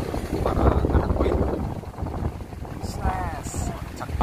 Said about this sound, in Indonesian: Anginnya makin kencang ya, gelombangnya juga makin tinggi